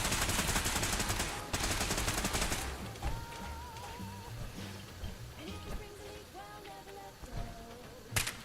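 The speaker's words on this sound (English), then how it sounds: "Nope, that sounds like a weapon. Turret." A Fallout 4 turret opens fire in rapid bursts of automatic gunfire, dense and loud for the first few seconds, then fading to scattered distant shots and a final burst.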